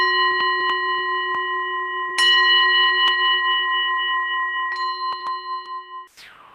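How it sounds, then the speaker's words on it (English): A single bell is struck three times, each strike ringing out clear and sustained with a long, slowly fading tone that lingers before dying away. "I'm going to ring the bell 3 times."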